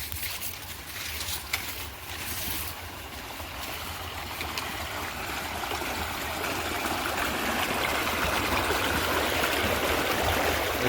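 Irrigation water pours into a farm field plot in a steady, rushing, gurgling flow that stays close and continuous throughout, with no talk.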